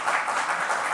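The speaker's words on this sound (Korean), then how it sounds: "잠깐 일어나시면 박수로 환영하겠습니다." A church congregation applauds together in a brief burst of dense, even clapping welcoming a member during Sunday worship.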